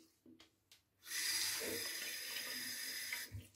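A tap gushes water into a sink during a razor shave, starting after a few soft knocks and breaths, then running strongly and steadily before a brief clatter near the end.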